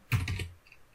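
A short, close burst of computer keyboard typing as a formula is entered, a quick cluster of key clicks that fades within a second, with no voice over it.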